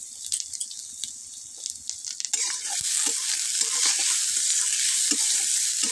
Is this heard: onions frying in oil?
yes